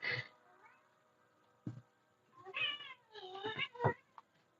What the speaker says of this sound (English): See, that's what my cat does. You hear her in the back.